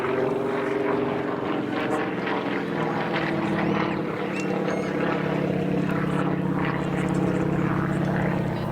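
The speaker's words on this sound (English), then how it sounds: "Up into another beautiful loop, that gorgeous smoke system trailing behind." A propeller-driven aerobatic display aircraft trailing smoke at an air display flies a loop, its engine droning loud and continuous with a rising and falling pitch as it climbs and turns, with faint crowd noise beneath.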